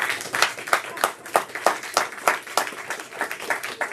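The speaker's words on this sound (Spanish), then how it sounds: "¿Cuántos pueden dar un aplauso al Señor Jesucristo?" A church congregation at a Sunday service applauds, with rhythmic, fairly sparse clapping in an even beat, close and moderately loud, with no talk over it.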